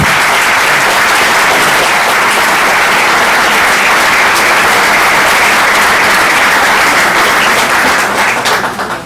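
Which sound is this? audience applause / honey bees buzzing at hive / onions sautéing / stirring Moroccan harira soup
audience applause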